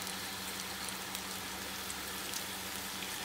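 Dry red chilli and five-spice seeds sizzle steadily in hot mustard oil, a dense, even crackle and hiss like light rain, with no talking.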